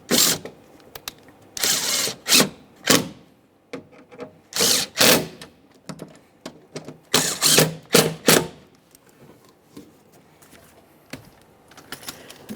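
A power tool tightens the front window motor fasteners on a 2009-2014 Nissan Maxima in short, loud, close bursts, roughly a dozen whirring pulses separated by quiet gaps.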